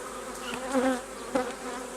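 Honeybees buzzing and fanning at an open hive during an inspection, a close steady droning hum with a few brief louder swells as bees pass near.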